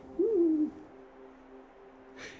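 A great grey owl in deep winter snow gives a single low, deep hoot, faint and alone in a quiet setting.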